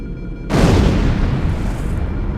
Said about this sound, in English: I'd guess an antimatter charge.